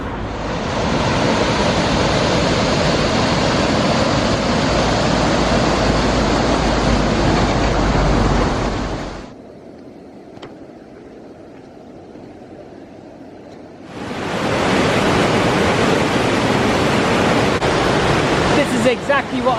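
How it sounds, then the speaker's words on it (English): Loud, steady roar of a river rushing beneath a bridge in Ireland, broken by a few seconds of near silence midway before the rushing water returns at full strength. "you can't hear anything except for the noise of the water"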